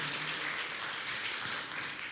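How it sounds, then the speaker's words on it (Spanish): A church congregation gives a soft round of applause, the clapping faint and distant as an even, continuous patter. "démosle un aplauso al Señor por ellos"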